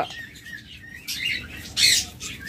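Several birds on a farm of about 700 to 800 pairs chirping and tweeting in short bright bursts, one louder call near the end, over a low background murmur.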